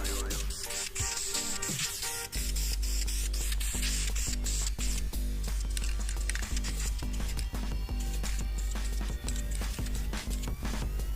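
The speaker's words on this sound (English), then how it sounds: "I'm gonna spray it a few more times." Repeated short hissing bursts of an aerosol spray can, close up, spraying an old clock being made into a wall mirror, with faint clicks and rubbing between sprays.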